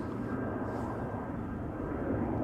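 A Transavia airliner departs Schiphol Airport, its engines a faint, steady broadband roar at a distance, with no talking.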